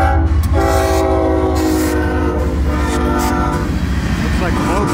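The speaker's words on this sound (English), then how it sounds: "the train snuck up pretty quickly" A Florida East Coast Railway local train passes close by and loud, horn blaring in long sustained tones over the heavy rumble and rhythmic clatter of wheels on rails.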